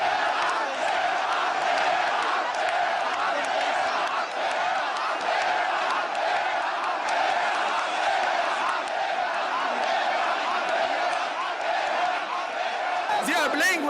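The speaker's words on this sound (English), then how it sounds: "Suddenly a change in the crowd from attentive silence to deafening roars of go," A dense protest crowd in Liberation Square roars and chants continuously, a loud, unbroken wall of massed voices with no pause.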